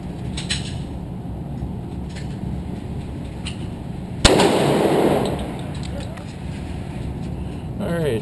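A single sharp handgun shot cracks at an outdoor shooting range, a pistol fitted with a laser sight, close and loud with a short ringing decay over steady background noise and a few faint knocks.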